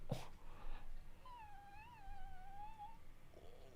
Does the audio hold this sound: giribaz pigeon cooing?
no